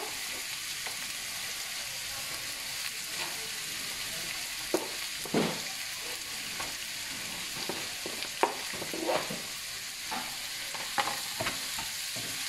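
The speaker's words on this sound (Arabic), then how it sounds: "Me voy a echar la cebolla." Onion frying in a pan, a steady close sizzle throughout with occasional scrapes and clicks of stirring.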